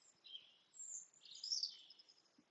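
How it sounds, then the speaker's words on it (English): Several birds chirp and trill softly at a distance, high-pitched calls overlapping in a quiet outdoor setting with no talking. "So we can hear the birds."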